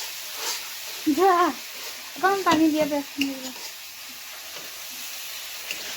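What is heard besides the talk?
fish frying in a pan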